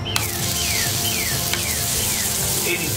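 Thin oil sizzles steadily across a hot griddle being prepped for 80-20 beef smashburgers, a dense continuous hiss with a few faint scraping clicks, no talking.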